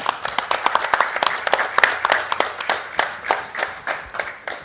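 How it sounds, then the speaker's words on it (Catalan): Applause for a guest named Cristina on a Catalan book-week broadcast: a small group claps in a quick, uneven patter of distinct hand claps, fairly close and lively, over roughly four seconds. "jo crec que es mereix un aplaudiment la Cristina"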